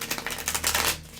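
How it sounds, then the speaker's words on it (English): Tarot cards being shuffled by hand, a quick run of riffling, papery flicks over about a second, heard close and alone. "And I shuffle one way and then another, just so I don't get that bowing in my decks."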